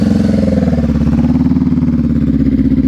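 A motorcycle engine revs near the microphone during slow-speed riding practice, holding a loud, steady, throbbing pulse with a slight rise in pitch that continues for the whole stretch.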